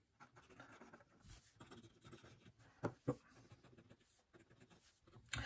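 A fountain pen nib is drawn across a nail file, producing faint, scratchy writing strokes in short bursts, quiet and close with no voices.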